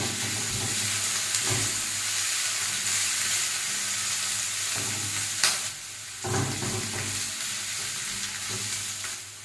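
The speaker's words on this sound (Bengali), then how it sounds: "তেল গরম হয়ে গেছে, এতে এবার দিয়ে দেব পেঁয়াজ কুচি আর তার সাথে দিয়ে দিচ্ছি লঙ্কা কুচি" Chopped onion and chili frying in hot oil hiss loudly and steadily, with a few sharp spatters and stirring knocks breaking through the constant sizzle.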